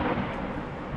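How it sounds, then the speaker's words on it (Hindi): Deep, low rumble of thunder rolling from dark, ominous storm clouds, a continuous heavy roar filling the moment with no voices. "आकाश में अशुभ बादल गरजने लगे।"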